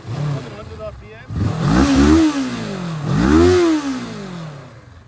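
Idling 2013 Kawasaki ER-6F motorcycle blipped twice, each rev climbing sharply and sliding back down, loud and close-up with some mechanical clatter and a steady idle rumble underneath.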